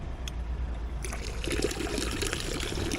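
Water runs steadily from an outdoor public tap in a seaside town, a continuous close splashing trickle that grows fuller and louder after the first second.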